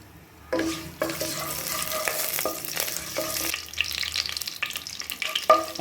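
Cardamom, bay leaf and kalpasi fry in hot oil in a pan for Kumbakonam kadappa, a steady sizzle broken by scraping stirs and the clatter of a spoon against metal.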